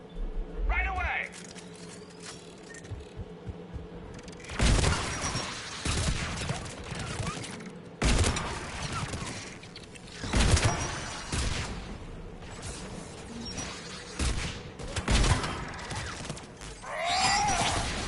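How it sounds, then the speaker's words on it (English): In the Mass Effect video game, anti-aircraft guns fire in heavy bursts that come in loud booming waves, with voiced character dialogue heard between and under the volleys. "AA guns ahead of us."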